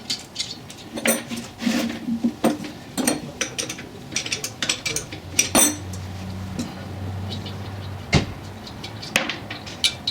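Metallic clinks, ratchet clicks and tool clatter while a carburetor is taken off a car engine in a garage, irregular close taps with a brief low mechanical hum midway.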